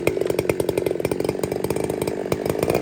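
A chainsaw fitted with a Walker-style modified muffler runs near and loud, its engine firing in a rapid, slightly uneven burbling rhythm for about three seconds with no voices.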